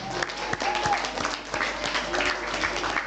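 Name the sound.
applause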